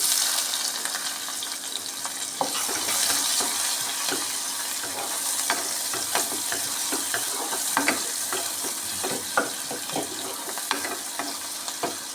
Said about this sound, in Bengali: এখন দারচিনি এলাচি তেজপাতা দিয়ে দিলাম এগুলোকে একটু ভেজে নিব পেঁয়াজ কুচি দিয়ে দিলাম